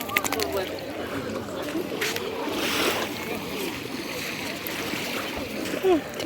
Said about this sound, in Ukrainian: І собачка купається.